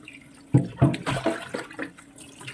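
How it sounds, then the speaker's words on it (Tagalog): Beef for papaitan is washed in water, with uneven splashes and sloshing that rise and fall at close range. "Hugasan nating maigi guys."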